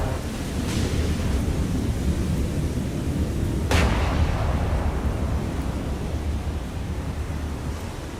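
The battleship Alabama fires its 16-inch guns in the naval combat game War on the Sea, two distant booming shots, the second louder, rolling over a constant bed of wind and sea noise.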